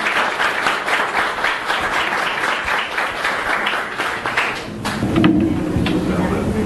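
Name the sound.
audience applause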